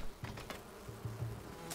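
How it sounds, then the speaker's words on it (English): Bees in the video game Enshrouded buzz in short, faint, low droning bursts, several separate passes in quick succession with no talk over them. "Oh, bees! Freaking bees,"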